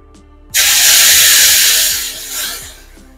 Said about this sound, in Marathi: आता ह्यामध्ये गरम दूध घालून घ्यायचं